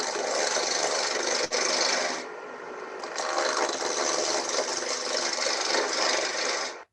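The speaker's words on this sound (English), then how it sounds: "You can hear the intermittent cuts, and there's no shavings coming off here." Wood lathe tool making intermittent cuts on spinning wood that throws crumbs and chunks rather than shavings: a continuous loud rasping scrape that eases briefly midway, then resumes at full strength until it stops abruptly.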